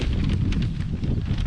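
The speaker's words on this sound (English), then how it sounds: "And as usual, it's windy." Steady wind rumbles and buffets a microphone at an outdoor septic mound job site in Petaluma, California, a continuous low roar with gusty swells and no speech.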